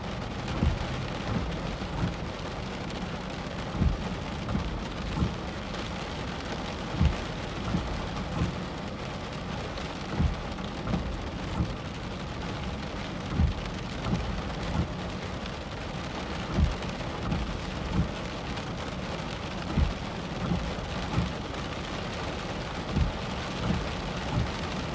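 Heavy rain pours steadily on a vehicle during a storm chase in a severe Corn Belt weather outbreak, a dense constant hiss with regular soft thumps and no voices.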